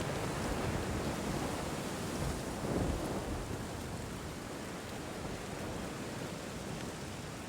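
A rainstorm rolls in over the African savanna, steady dense rain hiss with low thunder rumbling, a slightly louder surge near the middle, no voices.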